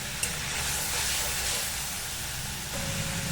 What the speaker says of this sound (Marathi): आता टोमॅटोची प्युरी ती छान फ्राय करून घ्यायची